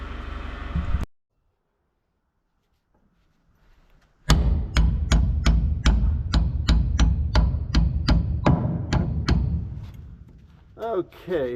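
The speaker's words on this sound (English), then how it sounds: "Now I grab my hammer and punch and knock that lock collar." Hammer and punch striking a lock collar on a Gleaner R72 combine hopper floor, a rapid run of about fifteen sharp metallic knocks in steady rhythm, close and loud, after a brief quiet pause.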